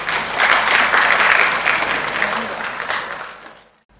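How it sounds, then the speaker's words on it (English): Audience applause at an education forum, loud and dense from the start, holding steady for a few seconds before tapering off and fading out near the end. "Please give her a round of applause."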